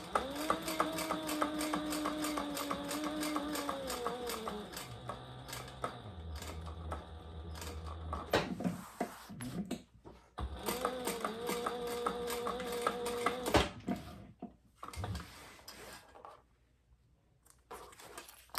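An industrial sewing machine stitches through the thick card-slot edges of a leather wallet, running in two sustained bursts of rapid mechanical whirring and clatter with a pause between and quieter handling sounds after.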